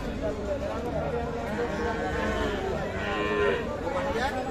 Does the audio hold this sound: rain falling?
no